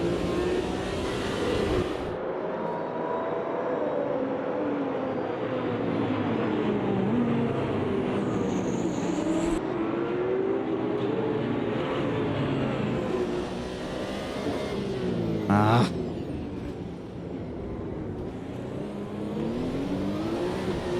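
A race car in Automobilista 2 accelerates hard through its gears, with a loud, continuous engine roar rising in pitch, a sharp shift near the middle, and the revving carrying on to the end.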